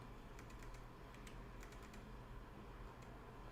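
Brisk typing on a computer keyboard, irregular clusters of light key clicks over a steady background hum, no voices.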